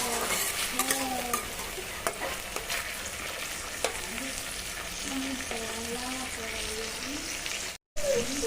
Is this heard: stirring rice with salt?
yes